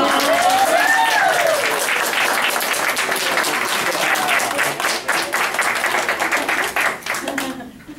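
Audience applause at a kindergarten portfolio day, a dense steady clapping from a crowded room that runs the full length and fades slightly at the end, with a brief children's voice or squeal near the start.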